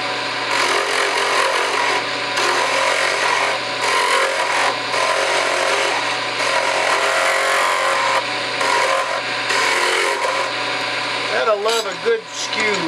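Wood spinning on a lathe while a skew chisel cuts it for a pen blank, giving a steady, loud hissing scrape over the motor's hum, with a brief change near the end.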